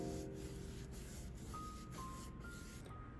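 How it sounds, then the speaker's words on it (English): Primed 8x10 canvases are sanded by hand in steady, rhythmic back-and-forth strokes, close and continuous, with a couple of faint thin tones in the background. "I will prime all the canvases that I have and sand them"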